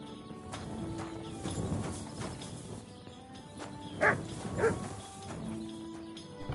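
A dog barks in the medieval video game Kingdom Come 2. There are several sharp, moderately loud barks spaced irregularly over a faint ambient background, with no speech.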